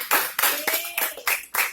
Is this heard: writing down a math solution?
no